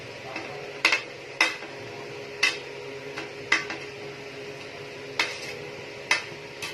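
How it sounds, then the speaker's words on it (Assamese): Chicken pieces are stirred together with ginger-garlic paste in a pot for an Assamese local chicken curry, with sharp spoon clinks against the vessel every second or so over a faint low sizzle. "এতিয়া আমি মাংসখিনিৰ সৈতে আদা নহৰু পেষ্টখিনি মিহলি কৰি দিম।"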